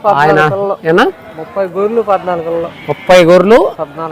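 Sheep bleat repeatedly at the Gudur weekly livestock market, where pregnant ewes and lambs are sold. Loud, wavering bleats rise near the start and again later, mixed with close conversation.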